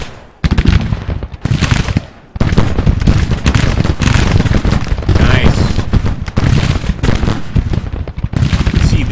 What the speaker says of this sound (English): We're still trying to get a volley off.